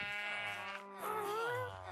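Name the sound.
sheep bleating in Minecraft video game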